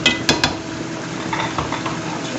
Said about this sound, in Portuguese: vamos estar aí, ó, fritando isso aqui